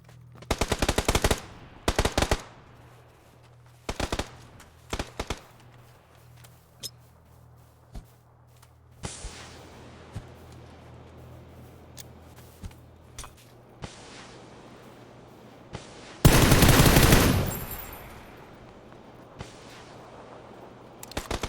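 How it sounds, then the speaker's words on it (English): Gunfire crackles through a competitive first-person battle royale championship match on Xbox, with scattered bursts of automatic fire, single shots and one long, loud volley near the end over a low steady background hum. "Shots now coming out down the hill."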